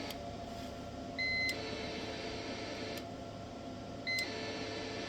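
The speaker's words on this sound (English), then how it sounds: "it's beeping because the radio is drawing so much power it's causing my UPS to bog down" An uninterruptible power supply beeps under heavy load from a Kenwood TS-850S ham radio transmitting at full carrier, giving two short, faint electronic beeps a few seconds apart over a steady hum.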